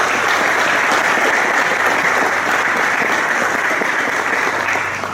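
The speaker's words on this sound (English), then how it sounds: "So please give yourselves a round of applause." An audience at a fire department ceremony marking its ISO Class 1 rating applauds steadily for about five seconds. The dense, even clapping holds at full strength and eases slightly at the very end.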